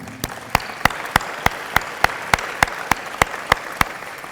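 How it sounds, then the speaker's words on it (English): Audience applause at a Murray State Hall of Fame ceremony for track and field inductee Martyn Brewer: sharp, evenly spaced claps in a steady beat over a soft crowd wash. "So a round of applause, please, for Martyn Brewer."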